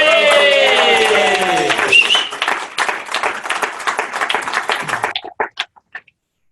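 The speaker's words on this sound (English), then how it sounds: "a huge round of applause to Tony!" An audience claps for Tony at a KaratBars gathering, loud cheering and applause under crowd voices at first, then thinning to scattered individual claps that trail off into silence.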